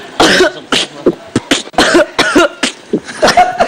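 A rapid series of sharp, loud coughs in quick bursts, close to the mic, with short gaps between them and no talking.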